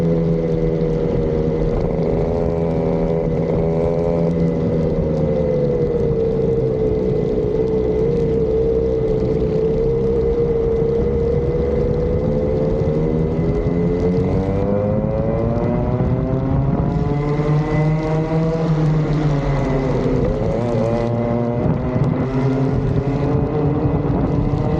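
A 26-kart field of junior racing karts at Buckmore Park circuit drones steadily and loudly throughout, with layered, shifting engine notes that rise and fall as the pack moves, with no talk.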